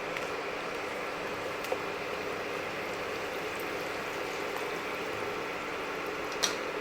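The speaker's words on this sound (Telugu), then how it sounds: "ఇప్పుడు 3 ఎండుమిర్చి వేయించుకున్నామండి." Three dried red chillies frying in hot oil for an instant mango pickle, a steady, even sizzle held at low level with a couple of tiny pops and no one speaking.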